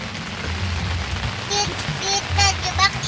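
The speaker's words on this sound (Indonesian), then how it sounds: "Di luarnya hujan, jadi terjebak di dalam tenda." Rain patters steadily on a tent during beach camping, a close, dense drumming with a few sharper drops, while faint voices murmur beneath it.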